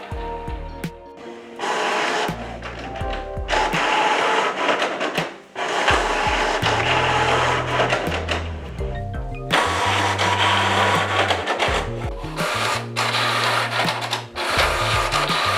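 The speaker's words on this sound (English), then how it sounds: "the printer will print the printhead adjustment pattern" A Canon MAXIFY GX5000-series inkjet printer prints its printhead adjustment pattern, a loud, close mechanical whirring broken by shuttling carriage passes, humming motor tones and brief pauses, played back sped up.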